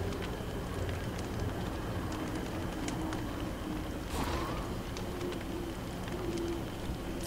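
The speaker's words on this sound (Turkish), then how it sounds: "Gece olunca kuşları da öldürebiliyorsun." Birds in the video game Don't Starve Together give soft cooing calls and light chirps against a quiet, rain-like ambient hiss, fairly faint with no talking.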